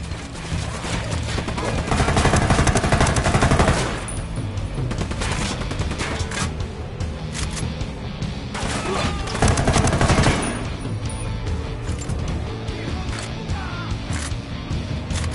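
Gunfire in the video game Ghost Recon Wildlands, dense sustained volleys of shots and impacts rolling across a firefight, swelling into two louder bursts with brief voices mixed in.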